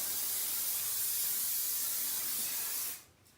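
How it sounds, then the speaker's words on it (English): Hairspray hisses from an aerosol can onto hair in one long steady burst, close and even, then cuts off abruptly near the end, leaving quiet. "So just spray it down really well."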